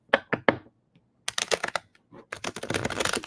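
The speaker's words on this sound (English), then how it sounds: "I need to shuffle again" Tarot cards being shuffled, crisp bursts of riffling and tapping in short clusters, separated by brief pauses, close up and fairly loud with no talk over them.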